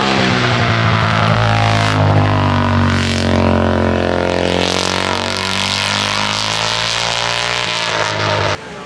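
Motorcycle engines at the Verbois hill climb near Geneva, a loud continuous roar with a bike passing close and revving through gears, engine pitch rising and falling for several seconds before cutting off abruptly.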